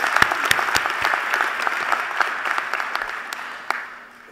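Indoor ceremony audience at Bowie State's presidential installation applauds elected officials, a full burst of many hands clapping close by that fades slightly toward the end.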